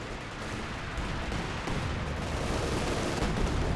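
Anti-tank guns fire in a Company of Heroes battle, a dense, continuous roar of booming shots and rumbling blasts that blur together, loud and unbroken, with no talking.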